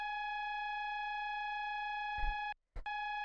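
A steady electronic drone of stacked pure tones with a slight detuned shimmer, broken near the end by two short noisy bursts and a brief dropout.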